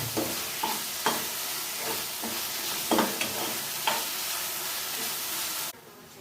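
Chopped tomato sizzles steadily while frying in a pan for a spicy mushroom curry, and a spoon scrapes and stirs through it in a loose rhythm of close, distinct strokes before the sizzle cuts off near the end.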